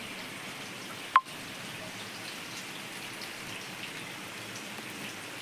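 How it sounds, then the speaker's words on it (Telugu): Steady rain pours down in a continuous hiss, with one brief sharp click near the start and no voices. "ఒక్కసారిగా లేచేసరికి ఫుల్గా వర్షం అయితే పడుతుంది మీ వీడియోలో చూపిస్తాను చూడండి"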